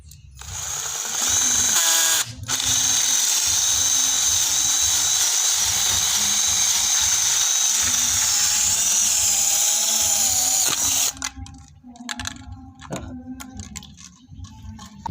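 Power drill boring a hole into the bottom of a 1-liter plastic soda bottle, a loud steady high whine for about nine seconds, then stopping into scattered clicks and handling noises.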